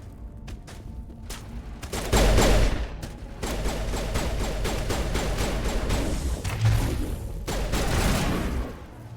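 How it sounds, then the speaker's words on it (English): Sustained gunfire and explosive bursts in the video game Mass Effect, dense overlapping shots with a heavier impact early on and a steady battle din throughout, no speech. "You shooting at, Caden?"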